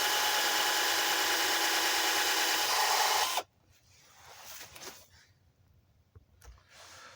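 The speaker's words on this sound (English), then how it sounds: "And we'll drill the second hole." A power drill runs continuously through the second hole in a wooden gate, a loud steady whir lasting a few seconds before stopping suddenly, followed by soft handling noises.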